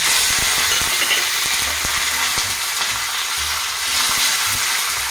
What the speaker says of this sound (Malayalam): മുളക് വഴട്ട് കൊടുക്കും കറിവേപ്പില